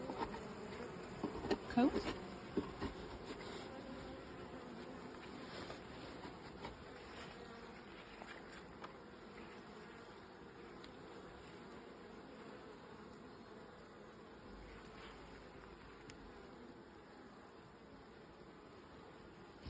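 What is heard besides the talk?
honeybees buzzing at an open beehive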